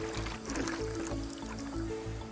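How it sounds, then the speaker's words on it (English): Water gushes into a large pot of tomato sauce in a busy kitchen, a steady sloshing pour with a rhythmic low churning underneath and faint voices in the background. "He then fills the pot with more water so it achieves the same consistency he had before the tomatoes."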